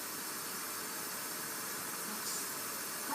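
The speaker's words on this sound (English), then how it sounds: "That's all just white noise." Steady broadband white noise hiss, even and unbroken throughout, with no voices or other sounds.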